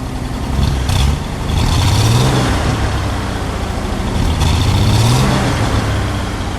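A 1954 Nash Healey Le Mans Coupe's engine rumbles at a steady idle, then climbs through two loud revs that swell and fall away, heard up close with no talk over it.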